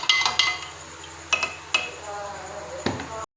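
A spoon clinks against a glass while Rooh Afza milkshake is stirred with milk and ice, a few sharp close clinks spaced apart over a low room hum.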